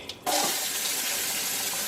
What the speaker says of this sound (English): we're going to fill up our pot with some filtered water from the refrigerator